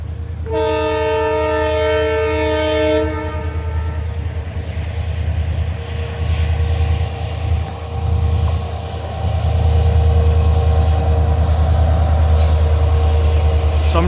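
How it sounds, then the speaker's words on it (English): A train passes close by near the Dwarka Expressway construction site, its loud horn blaring in a long steady chord at the start, followed by a sustained heavy rumble of wheels and carriages that swells toward the end. "Now we can also see a train coming in."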